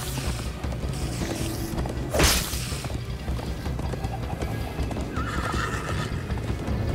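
Horse hooves clip-clopping at a run in Minecraft: Story Mode, a steady galloping rhythm with a sharp whinny partway through, set against game music and rumbling noise.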